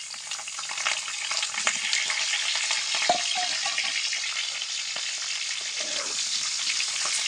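Potatoes frying in hot oil give off a steady, close hiss, loud and continuous across the whole stretch, with a few faint knocks from the pan and no voices.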